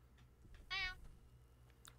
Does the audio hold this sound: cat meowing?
yes